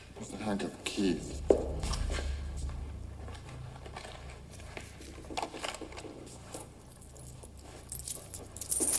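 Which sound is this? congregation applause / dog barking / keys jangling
keys jangling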